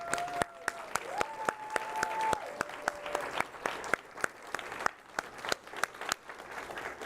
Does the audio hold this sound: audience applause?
yes